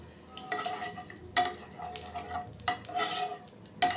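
A spoon stirs ghee into hot oil in a pan for a vegetarian dalia pulao. Light metallic scrapes and clinks come in irregular bursts over a soft background, with no talk.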